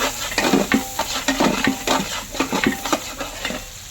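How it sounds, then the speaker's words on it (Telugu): Onions being stirred and fried in a pan for an eggplant, moong dal and tomato curry at a family dhaba, with a close, steady sizzle broken by repeated scraping strokes of a spoon against the pan. "ఆనియన్స్ బాగా ఫ్రై అవ్వాలి."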